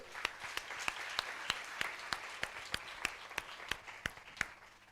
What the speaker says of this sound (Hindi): उनका हिम्मत अफजाई के लिए जोरदार तालियां बजाएंगे